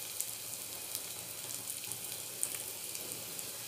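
Garlic and chili powder fry in a pan, giving a steady, close sizzle and crackle with a few sharper pops and no talking.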